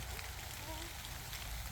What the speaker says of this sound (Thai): ตอนนี้ฝนตกนี่เนี่ยฝน